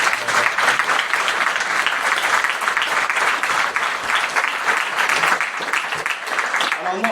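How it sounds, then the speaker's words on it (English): A live audience at a cybersecurity talk claps steadily for a volunteer leaving the stage, dense sustained applause filling the room for several seconds without a break. "Round of applause for Wesley."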